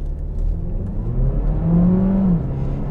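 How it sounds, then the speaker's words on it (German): A 2020 Seat Leon FR with a 1.5 eTSI engine accelerating hard from inside the cabin, a low engine drone rising steadily in pitch as revs climb, close and fairly loud over road rumble. "wir beschleunigen mal durch."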